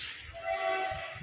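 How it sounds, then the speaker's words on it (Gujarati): A train horn sounds as the train arrives, one short, faint, sustained tonal blast heard at a distance. "ટ્રેન આવી ઓમ જા જલ્દી"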